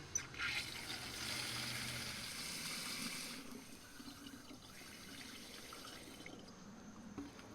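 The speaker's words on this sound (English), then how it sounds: "So let's go ahead and fill this guy up." Water pours into a one-gallon pump sprayer, a steady faint splashing stream that grows quieter as it continues, with no talking.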